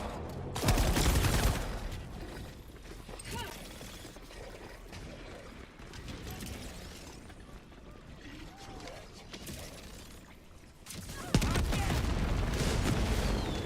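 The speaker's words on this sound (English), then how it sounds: "Done in by a grenade." A sustained, noisy burst of combat in Fallout 3 with a grenade explosion, heavy rumbling and clattering debris lasting several seconds, then a fresh loud blast near the end.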